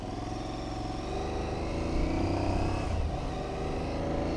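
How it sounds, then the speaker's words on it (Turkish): Motorcycle ridden at about 100 km/h on a New Zealand road, a brand-new bike: steady loud engine drone with wind rush, slightly swelling midway, no talking. "100 kilometrede motor kullanıyorum"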